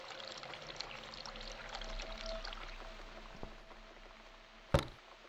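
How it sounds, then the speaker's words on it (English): Faint steady pouring of water into a kettle in the game The Cat Lady over a low background hum, ending with a short sharp clack. "Gonna fill up the kettle with some water."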